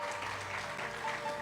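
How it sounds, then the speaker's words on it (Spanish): A church congregation claps in a faint, continuous patter of applause, heard at a distance in a reverberant room. "Démosle un fuerte aplauso a nuestro Padre espiritual."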